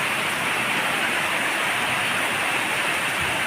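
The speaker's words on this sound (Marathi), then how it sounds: "आणि हा धुवाधार पाऊस." Heavy pre-monsoon rain in Maharashtra, India, pours down in a dense, unbroken hiss, steady and loud with no pauses or voices.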